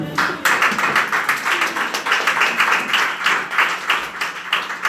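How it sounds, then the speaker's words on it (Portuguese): A church congregation applauds, a dense, steady wash of many hands clapping together that carries on without a break for the whole stretch. "Desocupa as suas mãos e aplaude ao Senhor."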